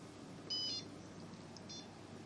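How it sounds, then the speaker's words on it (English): An electronic alarm system emits two short, faint, high-pitched beeps, spaced about a second apart, over a low background hum as it is activated. "to activate the alarm here, we have to press A"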